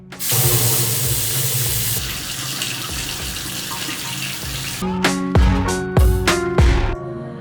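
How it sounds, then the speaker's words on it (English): Tap water runs steadily into a bathroom sink during face washing, a continuous close splash that shifts in tone partway through, followed by a few sharp knocks and clatters of items set down near the basin. "I'm gonna wash my face with the MamaEarth Rice face wash"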